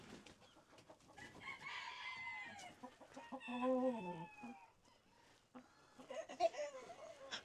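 Chickens cluck steadily at a farm with penned hens, and a rooster crows loudly nearby partway through. The calls rise and fall in bursts, with no talk.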